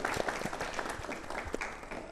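Applause from an audience at a health management career talk in India, a faint, steady patter of clapping heard from a distance.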